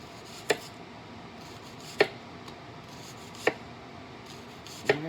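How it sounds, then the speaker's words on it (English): A knife cutting through an onion on a board makes four crisp, evenly spaced chops roughly every one and a half seconds, close and clear over a quiet kitchen background. "Cut this onion up"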